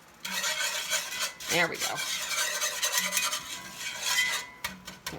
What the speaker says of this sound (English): I might want to get my whisk and do this part.